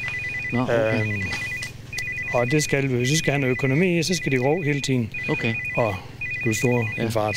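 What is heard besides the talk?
mobile phone ringing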